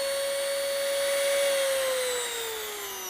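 A Handstar DM-130K variable-speed rotary tool runs alone with a steady, close, high whine that holds level and then drops in pitch as the speed is turned down near the end.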